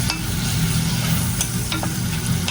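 Ginger fries in a pan while monggo is being made with pork and vegetables. A steady, dense sizzle runs throughout, broken by a few short scrapes as it is stirred.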